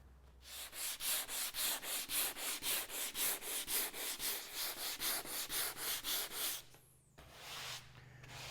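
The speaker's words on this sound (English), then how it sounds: "the next step is to sand it with 80 grit sandpaper." Cured epoxy on a fiberglassed boat hull being sanded by hand with 80 grit sandpaper: quick, steady rhythmic back-and-forth strokes, loud and close, with no talk, then a short pause and a few final rubs.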